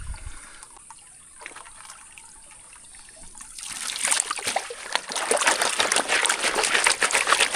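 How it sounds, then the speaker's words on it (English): Water sloshes and trickles in a gold prospecting pan, starting faint and quiet for a few seconds, then swelling into a steady, close splashing and rustling wash. "Let that water settle and clear."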